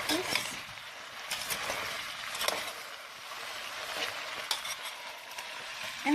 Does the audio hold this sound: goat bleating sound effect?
no